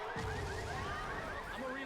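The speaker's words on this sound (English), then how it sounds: "And the car alarm is triggered." A car alarm goes off in Left 4 Dead during a competitive tournament match, with a faint, repeating wailing siren that rises and falls behind other game noise.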